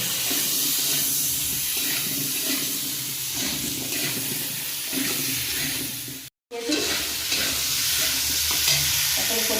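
Potatoes and fish for a bhola fish curry with raw tomato sauté in a pan, a constant close frying hiss with stirring scrapes, cut off by a brief silent gap before the sizzling resumes.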